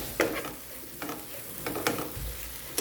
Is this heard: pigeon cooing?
no